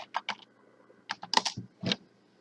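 Keystrokes on a computer keyboard, typing in a number, in short bursts of a few quick clicks separated by pauses, close and fairly quiet with no voices.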